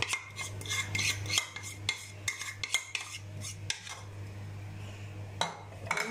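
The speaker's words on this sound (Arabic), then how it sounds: "نقلبها في الرز" A metal spoon scrapes and clinks against a pan while cream is stirred into cooked rice, in irregular, close scraping strokes over a steady low hum, with no talking.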